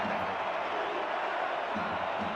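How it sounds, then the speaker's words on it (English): A stadium crowd at a football game grows loud, a steady, dense roar of many voices that stays even and continuous throughout. "BC crowd getting a little loud right here."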